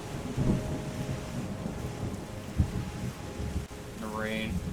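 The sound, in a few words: rain and thunder in the video game Terra Nil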